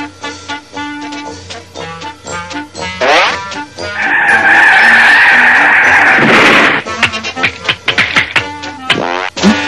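A cartoon car brakes hard in a long, loud tyre screech lasting a couple of seconds, set among bursts of animated character voices and music before and after.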